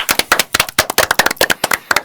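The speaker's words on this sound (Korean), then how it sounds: "박수 한번 주십시오." A studio audience claps for a Korean political talk broadcast, a short burst of brisk, close, sharp claps with no voices over it.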